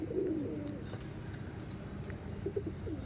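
Pigeons landing on a house rooftop coo in low, murmuring calls at moderate distance over faint outdoor background noise.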